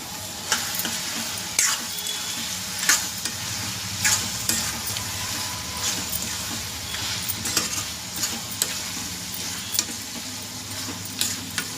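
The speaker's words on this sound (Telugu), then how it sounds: "కారం వేసిందాక ఒక 2 నిమిషాలు అలా కలుపుకోండి." Chilli powder being stirred into mutton keema and greens frying in a pan, with steady sizzling throughout and frequent sharp scrapes and clinks of a spoon against the pan.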